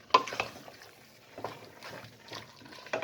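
Tamarind paste being mixed into a curry in a pan, a few soft scraping stirs spaced out over a quiet bubbling background, close and fairly faint.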